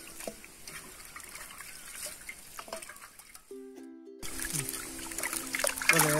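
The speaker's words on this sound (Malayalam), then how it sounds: "നമുക്കിതുപോലെ രണ്ട് മൂന്ന് വെള്ളം നല്ലതുപോലെ കഴുകിയെടുക്കാം." Chicken pieces being washed in water, with soft trickling and sloshing at close range that grows louder and splashier toward the end.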